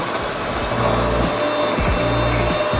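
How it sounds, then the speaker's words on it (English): An electric mixer creaming butter and sugar for winter cookies: a loud, steady motor whir with slight pitch wobble, close and continuous, no speech. "Now we're going to mix the butter and the sugar together."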